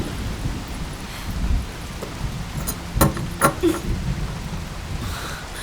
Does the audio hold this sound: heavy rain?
yes